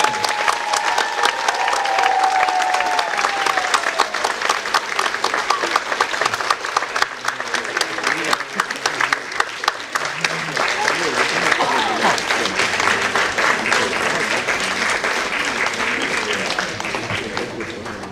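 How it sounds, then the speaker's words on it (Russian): Loud, sustained audience applause with some cheering fills a hall at an anniversary concert by an orchestra, steady throughout with a few voices and shouts rising from the crowd. "Под ваши бурные аплодисменты, дорогие друзья"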